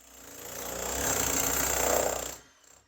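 A 15-kilo hammer breaking up an old floor indoors, a loud sustained grinding, pounding roar that swells for about two seconds and then stops abruptly, followed by a short faint tail.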